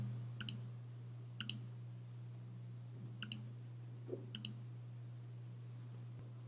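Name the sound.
mouse click on a button in Unity color palette tool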